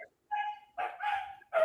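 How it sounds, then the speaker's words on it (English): Dogs barking in the background of a phone-in conversation, a few short yips and barks heard clearly in quick succession, with no speech over them. "Are those your dogs barking"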